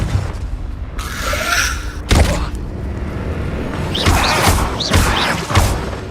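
Confringo explosive spell in Hogwarts Legacy going off in several sharp booming blasts with crackling, fizzing bursts between them, loud and close with no talking.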